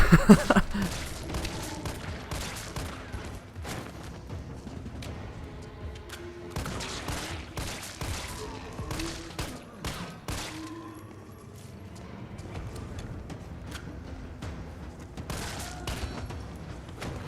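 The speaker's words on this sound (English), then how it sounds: "I'm just taking out these guys as fast as I can, trying to get the headshots." Dense gunfire in Resident Evil 3 Remake as enemies are shot down, with rapid shots and bursts layered over constant game noise and rumble, loud and sustained throughout.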